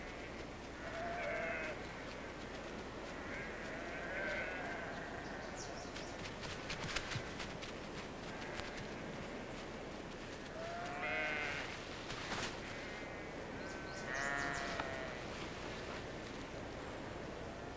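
Sheep bleating in a fold of ewes and a ram, several separate calls rising at intervals over steady outdoor background, some near and some farther off.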